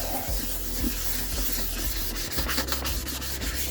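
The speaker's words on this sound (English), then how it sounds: "I'm going to carry on sanding this, just make sure that it is nicely keyed." Close, continuous scratchy rubbing of sandpaper keying the bodywork of a Citroen C1, with rhythmic back-and-forth strokes and no talking.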